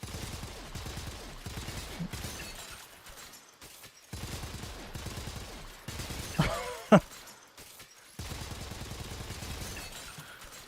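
Weapon gunfire with heavy recoil in the video game Warframe: bursts of rapid automatic fire that start and stop in several long strings, with a sharp crack and shattering impact near the middle.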